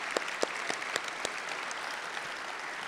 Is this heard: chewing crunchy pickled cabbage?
no